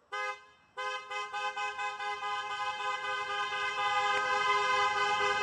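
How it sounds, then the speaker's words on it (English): A car horn sounds below an office building, first in one short blast, then in a quick string of rhythmic toots, and finally in a long continuous honk, loud and close. "I'm gonna honk my horn down there and come back."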